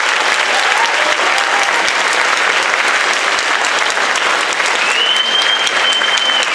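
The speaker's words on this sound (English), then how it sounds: "So one more huge round of applause for our amazing team." Loud sustained applause at a band senior awards ceremony, a full crowd clapping continuously for the team with no letup, and a brief whistle-like tone rising near the end.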